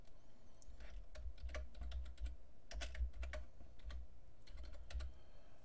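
Quiet, steady typing on a computer keyboard as a signature is entered, a fast run of light key clicks close by with brief pauses between bursts.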